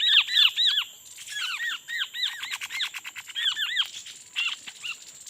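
Freshly caught Tepus birds squeak and chirp in rapid, repeated bursts of high, thin downward-sweeping calls, loud and close, with short pauses between flurries.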